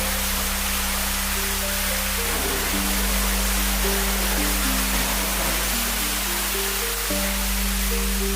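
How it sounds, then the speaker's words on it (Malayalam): Loud, constant rushing water from a waterfall inside a cave house room fills the space, with a soft melodic tune playing underneath. "റൂമിന്റെ അകത്ത് തന്നെ പ്രൈവറ്റ് പൂളും ഉണ്ട്, അതോടൊപ്പം തന്നെ വെള്ളച്ചാട്ടം ഉണ്ടെന്നുള്ളതാണ്."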